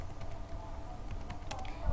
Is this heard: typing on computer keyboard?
yes